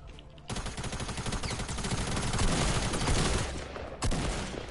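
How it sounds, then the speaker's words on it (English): Rapid sustained gunfire from the Fortnite video game, dense and continuous bursts of shots rattling for about four seconds with a brief break near the end, loud and close. "He is shooting me."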